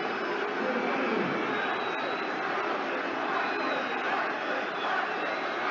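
A Leeds United home crowd at Elland Road applauds a substituted player leaving the pitch during a Premier League match against Manchester City. The sound is a loud, steady wash of crowd noise that runs unbroken from start to finish.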